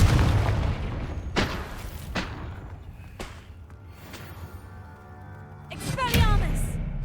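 Confringo blasting spells explode in Hogwarts Legacy, a handful of deep booming blasts spaced a second or so apart over a rumbling game soundscape, the last burst the loudest and most crackling.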